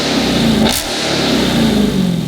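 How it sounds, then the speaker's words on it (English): Dodge Hellcat Jailbreak with its stock exhaust in Track mode revving loudly up close, a steady throaty V8 roar with one sharp blip of throttle midway. "this is a stock Jailbreak exhaust"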